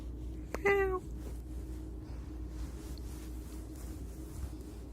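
A cat gives a single short, bright meow near the start, close and clear, over a steady low background hum with no other sounds following.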